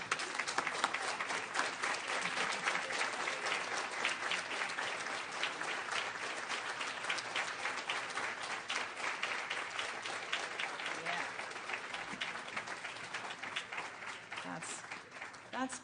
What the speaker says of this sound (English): How about we stand up and give them a round of applause, a standing ovation.